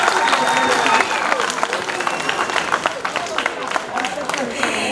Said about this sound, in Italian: Un grande applauso per Emma che compie 7 anni.